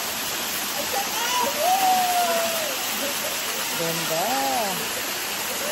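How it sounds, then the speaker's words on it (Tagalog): Busay Falls in San Rafael, Prieto Diaz, pours in a steady, close, roaring rush of water, while a voice speaks briefly over it. "At ito yung isang falls."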